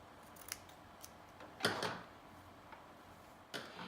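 Scissors trim the facing of a knit dress close to the seam allowance, giving a few short, crisp snips spaced apart with quiet pauses between them, close up.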